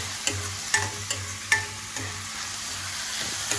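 Spring onions fry for egg burji, with steady low sizzling broken by several sharp clicks and scrapes of stirring at close range; no one speaks.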